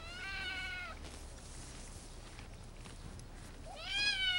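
A small kitten gives two clear, fairly close meows, one at the start and one at the end, with a quiet stretch of room noise between them.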